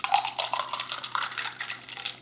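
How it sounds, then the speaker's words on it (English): A utensil stirs creamy strawberry lemonade with ice in a container, giving a run of close, bright clinks and rattles of ice against the sides in an uneven rhythm, with no voices. "Now we're gonna give it a good stir and make sure everything's all combined."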